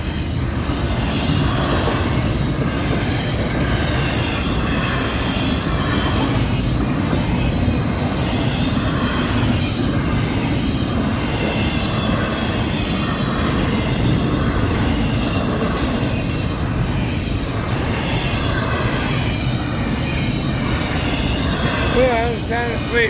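A Florida East Coast Railway northbound train passes at Port Orange, Florida, with a loud, steady rumble and rolling roar that holds unbroken from start to finish.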